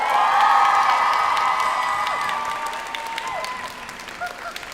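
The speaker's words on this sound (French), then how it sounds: "On va faire un tonnerre d'applaudissements une dernière fois pour les Epic Stars." A Japan Expo stage audience gives a loud, sustained round of applause with cheers and whoops for a performing group, a thick crowd roar that slowly fades as voices carry over it.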